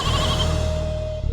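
A goat bleats once in a long, wavering, nasal cry that holds steady and then trails off, close and loud, with no talking over it.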